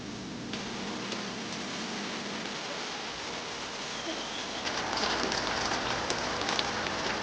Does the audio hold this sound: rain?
yes